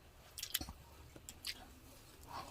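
Someone chews a bite of egg pie up close, with a few soft, moist bites and crunches spread irregularly through a quiet stretch.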